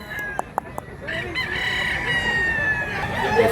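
A rooster crows close by at a chicken market in Mantalungon, Cebu, one long drawn-out call following a few sharp clucks, with market noise behind it.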